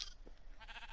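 A dyed sheep in Minecraft gives a faint, brief bleat, soft and distant against quiet game ambience.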